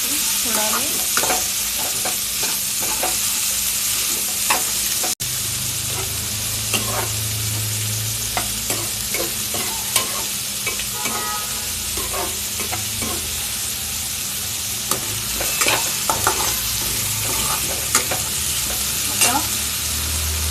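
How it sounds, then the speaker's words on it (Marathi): Mixed vegetables including finely chopped carrot stir-frying for brown rice vegetable pulao, a loud continuous sizzle with scraping stirring strokes from a spoon in the pan, no talking. "सगळ्या पदार्थाची मिक्स करून फ्राय करून घ्यायची थोडा वेळ."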